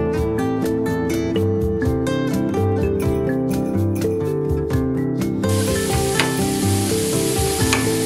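Chopped onions tipped into a hot, spicy pan for an Udupi-style dish hiss and sizzle steadily throughout, up close, with a constant tonal musical backdrop underneath.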